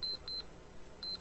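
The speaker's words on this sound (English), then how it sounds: "At 4 in the morning, when Bill's alarm goes off" An alarm clock goes off at 4 in the morning, three short, faint electronic beeps in an uneven pattern over quiet background noise.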